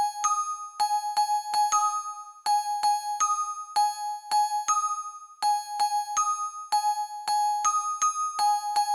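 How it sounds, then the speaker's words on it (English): Synth bell preset blending glockenspiel, music box and organ bell tones, playing a repeating pattern of fifth and sus2 notes in a trap beat; bright, evenly spaced struck notes in a steady rhythm, played alone with no voices. "So it's a mixture of glockenspiel music box and organ bell"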